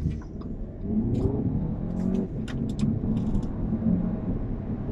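An Audi A4 Quattro launches and accelerates on the road, its engine a steady, loud drone that builds and holds throughout, with faint clicks and rattles over the top.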